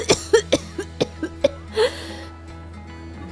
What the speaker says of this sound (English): this cough of yours has still not gone